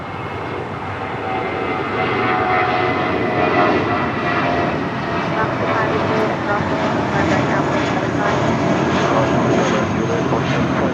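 A JetBlue Airbus A320 jet arriving on the south side of Los Angeles International Airport roars loudly and steadily for several seconds, a broad continuous engine rush with no break.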